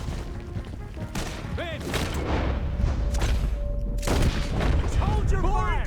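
Gunfire and booming shots in Red Dead Redemption 2 during a chase, loud bursts mixed with shouting voices, hoofbeats and game music across the whole stretch.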